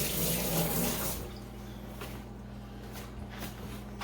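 A kitchen tap runs while something is rinsed during potato-leek soup preparation. The water gushes loudly for about a second, then settles into a softer, steady trickle nearby.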